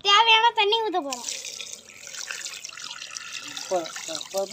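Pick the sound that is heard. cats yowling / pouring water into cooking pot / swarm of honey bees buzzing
pouring water into cooking pot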